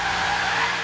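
A Ford Falcon XR8 drifting in Forza Horizon 3 produces one continuous, loud tire squeal and skid with the engine roaring beneath it.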